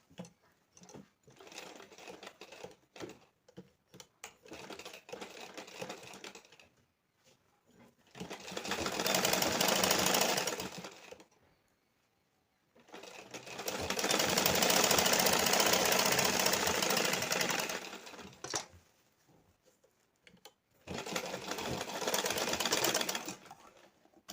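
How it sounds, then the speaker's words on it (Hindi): A sewing machine stitches the seams of a simple blouse in three long runs of fast, buzzing clatter, separated by pauses filled with quieter handling sounds. "अब इस पे चलाना है सिलाई।"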